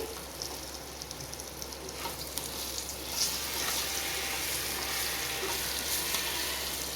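Garlic and green chillies fry in oil in a pan, a steady close sizzle with scraping stir sounds that grows louder partway through.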